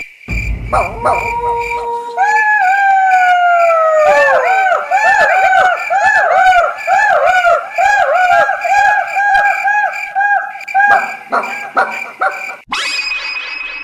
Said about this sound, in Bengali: রাত গভীর হলেই তারা ডাকাডাকি শুরু করে দিত।